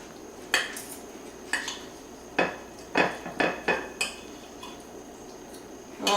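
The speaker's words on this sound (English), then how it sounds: "I'm going to have to use a knife and a fork." Knife and fork clinking and scraping on a plate while cutting through a rustic pizza pie, several sharp metallic taps at uneven intervals, close by and without talk.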